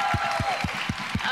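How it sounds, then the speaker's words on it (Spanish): Rhythmic, evenly spaced claps at a Premios Juventud awards event come through beneath a lively backdrop of crowd noise and music, five beats in quick succession. "un aplauso para ti."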